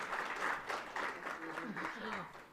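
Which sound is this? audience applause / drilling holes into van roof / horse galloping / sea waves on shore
audience applause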